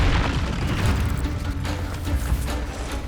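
The Confringo fire spell in Hogwarts Legacy erupts as a loud, rumbling explosion that rolls on steadily for about three seconds with no speech.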